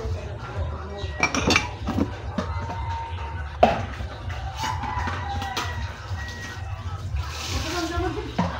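Dishes, pots and pans clink and clatter as they are washed, with splashing water and sharp metallic knocks over a steady low hum, while people talk throughout.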